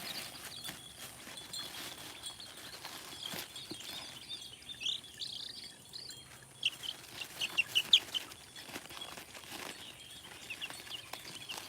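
Chickens cluck softly in a small backyard flock, their scattered calls thin and somewhat distant over a low, steady outdoor background with occasional rustles.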